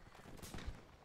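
Artillery fire in the Napoleonic-era battle game Mount & Blade: Warband, a faint, brief low boom rolling under a muffled din of distant battle.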